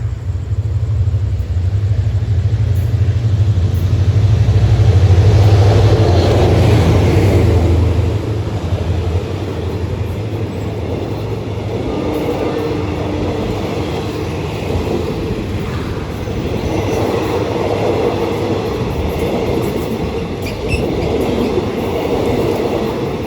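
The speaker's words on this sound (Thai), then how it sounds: "ขบวนต่อไปนะครับเป็นรถพิเศษทหารนะครับ ขบวน 980 นะครับ" A special military train, number 980, rolls through Maluan station in Thailand with a loud, steady rumble and the rhythmic clatter of wagons that eases slightly after the first few seconds.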